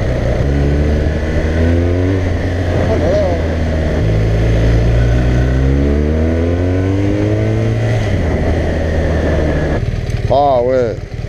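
A BMW R 1200 R motorcycle engine drones steadily while riding, loud and close, its pitch climbing and dropping through several gear changes with no talk over it.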